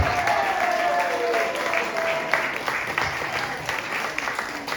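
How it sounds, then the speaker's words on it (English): A comedy show audience claps steadily in a hall, with dense applause lasting nearly five seconds and a few whoops rising over it. "Let's give them a round of applause,"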